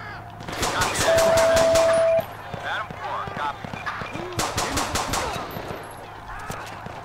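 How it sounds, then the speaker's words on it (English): Rapid bursts of gunfire in GTA 5 with the LSPDFR police mod during a stolen money truck robbery, loud repeated volleys with a gap between them and a steady tone underneath, with voices also heard. "Who's still shooting?"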